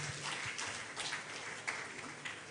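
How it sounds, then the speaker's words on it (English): Audience applause for the chairman of an engineering society branch at an Engineering Week opening ceremony in Uyo, a steady wash of clapping from a crowd in a hall, moderately loud and continuous with a few sharper peaks. "Please put your hands together for the chairman."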